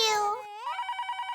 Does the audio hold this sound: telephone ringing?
yes